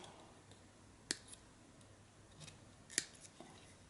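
Cutters snip the leads of quarter-watt 220-ohm resistors during PCB assembly. Two sharp, close clicks sound about two seconds apart over near silence, with a few fainter ticks between them.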